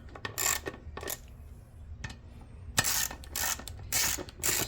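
A ratchet wrench clicks in repeated bursts while tightening the bolts on a UTV beadlock wheel in a star pattern, close metallic ratcheting with brief pauses between bolts.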